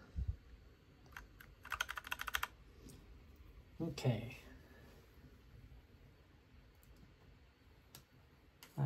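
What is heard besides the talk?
installing keycaps onto a mechanical Cherry switch keyboard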